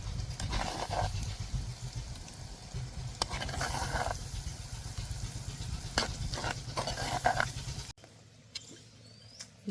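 Chole chickpea curry is stirred in a pot after gravy goes in, with a low bubbling sizzle and repeated spoon scrapes and clunks, then a sudden quieter stretch near the end.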